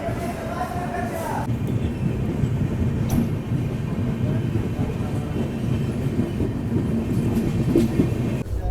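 A Panvel–Gorakhpur Express train pulls out of a railway station at night with a steady, loud rumble of wheels and carriages. The clatter runs continuously throughout, with faint background voices.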